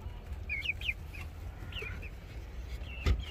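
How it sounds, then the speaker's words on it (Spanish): Hens and a rooster in a backyard flock cluck in short, near bursts, with a louder thump near the end and no talking. "Aquí tenemos el peloncito con sus gallinitas que todavía no han empezado a poner tampoco."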